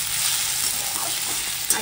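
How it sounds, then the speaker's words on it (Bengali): Potatoes frying in a pan alongside home-cooked eggplant fry and an egg omelette, giving a steady close sizzle with light stirring scrapes and one brief clink near the end. "এদিকে আলু ভাজা করছি"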